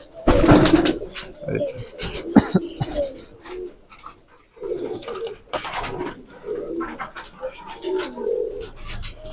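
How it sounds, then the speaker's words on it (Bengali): Giribaz pigeons on a large farm in Rajshahi coo in repeated low throaty phrases, mixed with rustling, handling noise and a few sharp knocks, close by and fairly loud. "সম্পূর্ণ আড়াইশো দুইশো কবুতর বাইরে ছাড়াই আছে"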